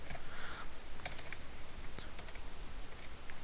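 Rapid typing on a computer keyboard, close and steady, with irregular bursts of key clicks and no talk over it.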